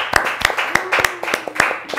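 Several people clap for a guest on a talk show, a fairly close run of evenly spaced, crisp handclaps at a brisk steady rhythm across two seconds.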